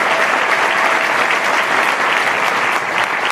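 Dense, steady applause from a live audience at a Gujarati folk music show in Leicester, loud and continuous clapping filling the room with no voices on top.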